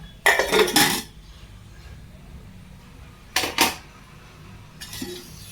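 A metal cooking pot for tempering sprouted legumes clanks down on a stove with a short rattling clatter, followed by a second clank and a fainter knock near the end.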